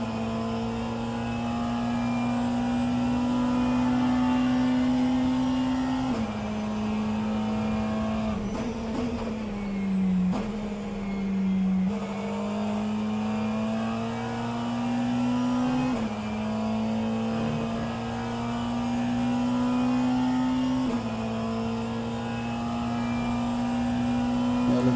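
McLaren prototype race car engines drone through a virtual endurance race, a steady high-pitched tone shifting with gear changes and brief dips, another car audible nearby, no talking over it.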